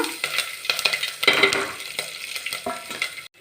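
Green chilli pieces, ginger, peppercorns, cashews and cumin hitting hot oil, crackling and sizzling up close with a few spatula scrapes and clinks, then cutting off abruptly at the end.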